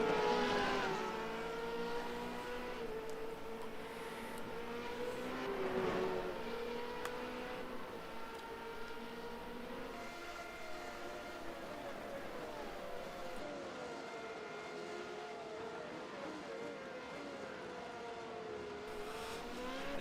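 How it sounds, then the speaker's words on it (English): Race cars in an F2 racing video game at the American Grand Prix run down a straightaway, their engine whine rising and falling steadily for the whole stretch, with a commentator talking over it. "As you see Tilsley in the McLaren-looking car coming just outside of the screen there down the straightaway"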